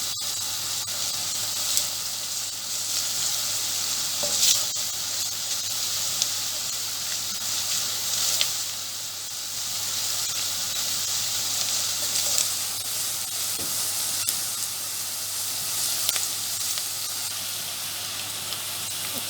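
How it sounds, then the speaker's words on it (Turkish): Chopped onions with a level spoonful of flour frying in a pan for a lentil soup, giving a steady, even sizzle and hiss that runs unbroken throughout with no talking. "soğanlarımızı güzelce kavuralım"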